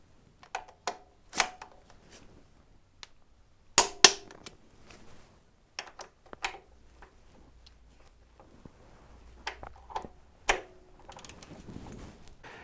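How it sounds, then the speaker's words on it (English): A torque wrench clicking as shock bolts on a BMW F850GS rear shock are tightened to 75 foot-pounds, scattered sharp clicks and knocks in small clusters against near silence. "Now's a great time to torque those shock bolts down. I torque them to 75 foot-pounds."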